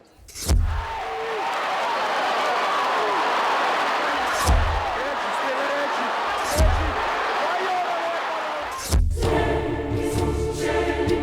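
A big crowd roars at the Palio horse-race festival in Siena's Piazza del Campo, a sustained loud cheer broken by several heavy thuds, with music rising at the very end.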